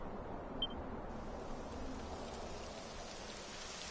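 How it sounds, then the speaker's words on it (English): Steady rain falls in the Dragon Quest XI game world, a soft continuous hiss of drops with a faint tick early on and no voices. "It would have to go and start raining, wouldn't it?"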